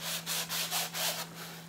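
A small sanding block rubbed over painted wood in a craft lantern project makes about five rhythmic back-and-forth rasping strokes, close and steady, with a faint constant electrical hum underneath and no speech.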